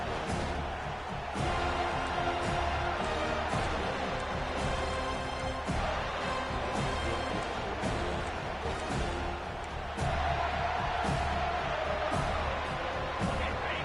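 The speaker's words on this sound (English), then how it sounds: "This crowd busting the decibel meter and trying to will a 4th down stop." A stadium crowd in a college football video game roars steadily through a tense fourth-down play, with loud, continuous cheering and swells of noise rising and falling over the whole stretch.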